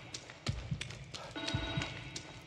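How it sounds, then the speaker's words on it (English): Telephone ringing in the horror video game The Evil Within 2, faint repeated electronic rings spaced about a second apart over a low room ambience. "The phone?"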